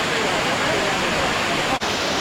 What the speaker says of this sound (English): Got a side view of the waterfall now.